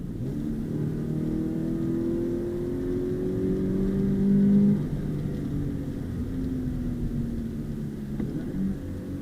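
A 2020 Subaru BRZ accelerates through the gears, engine drone rising in pitch, dropping at each shift and climbing again, heard steadily from inside the cabin.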